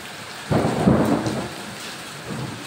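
Thunder during a hailstorm: a loud, close rumble breaks in suddenly, rolls for about a second over a background of rain, then a fainter second rumble follows, with no talking.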